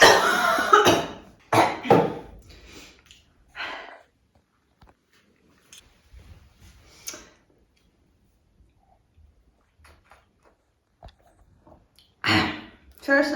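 A woman coughs in several sharp bursts at close range while cooking mango sticky rice, with pauses and brief talk between the fits.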